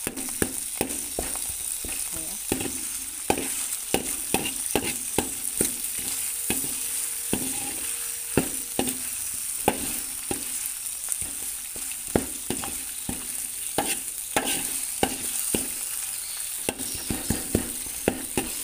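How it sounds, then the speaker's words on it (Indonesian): Young coconut vegetable stew with spices frying in a pan over low heat, stirred constantly: repeated scraping strokes cut through a steady close sizzle, with no talking. "Kita aduk-aduk terus ya teman-teman, supaya bumbunya masaknya merata ya."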